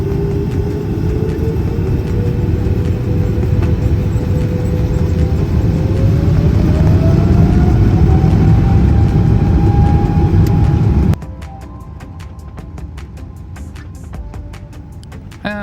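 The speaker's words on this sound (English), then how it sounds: "pretty soon we were lining up on the runway and taking off to say goodbye once again to Japan" Cabin noise aboard an ANA airliner taking off: a loud, steady engine roar with a whine rising in pitch as the jet accelerates down the runway, then an abrupt drop to a quieter hum after about eleven seconds.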